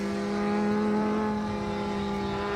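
A car on the Nürburgring Nordschleife in the racing game Assetto Corsa holds a steady, loud engine drone with strong tonal harmonics, revving slightly and then easing off, with no talk.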